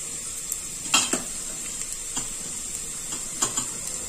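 A spoon stirs vegetables with turmeric in a pan, giving scattered clinks and scrapes against the metal over a steady, soft sizzle, with no talking.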